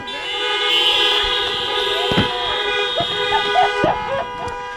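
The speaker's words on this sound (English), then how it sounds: "Why don't you honk your horns one more time?" Many car horns honking together at an outdoor community rally, a sustained blare of overlapping tones with several sharper individual honks cutting in, loud and close.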